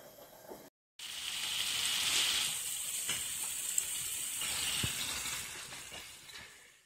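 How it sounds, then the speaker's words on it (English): Basil fries in a pan for a farfalle pasta dish with fontina cheese and ceps, giving a steady, close sizzle and hiss with occasional faint clinks of utensils. "And we're going to be frying that for 5 minutes."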